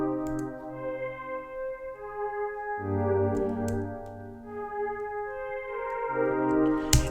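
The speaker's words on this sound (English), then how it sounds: "it kind of is like a mix of a pad and a synth key" A synth key pad preset from the Distant kit, built in FL Studio, plays sustained chords that swell and change in steady sections, soft and alone with no voices.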